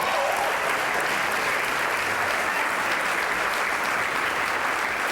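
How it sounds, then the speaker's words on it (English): A large audience at a high school band program's evening event bursts into steady, dense applause that fills the room at even loudness from start to finish, with no voices rising above it. "Let's clap it up for that."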